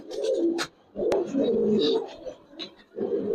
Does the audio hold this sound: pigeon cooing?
yes